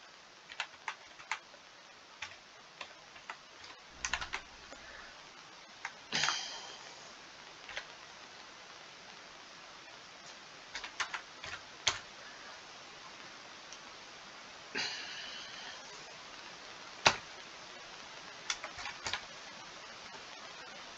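Keys on a computer keyboard are tapped while a name is typed into a registration form: sparse, quiet clicks and small bursts scattered over a long stretch, with no talking.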